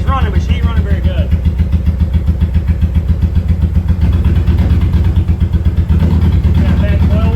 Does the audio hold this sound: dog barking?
no